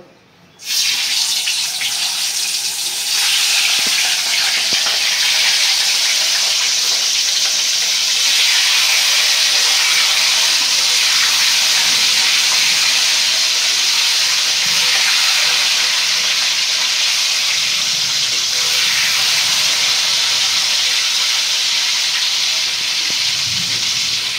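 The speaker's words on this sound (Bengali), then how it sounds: "তেলটা গরম হয়ে গেছে, এখন আমি ডিমটা দিয়ে দিব" An egg dropped into hot oil for a white egg korma, giving a loud, steady sizzling hiss that starts abruptly and holds unbroken, close and with no talk over it.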